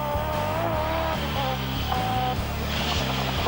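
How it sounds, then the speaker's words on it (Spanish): A Peugeot 205 Turbo 16 Group B rally car engine roars steadily at high revs, rising and falling through gear changes, loud and close with no talk. "Así apareció su versión Turbo 16 de Grupo B. Un cohete de 1200 kilos y 200 caballos que sonaba así."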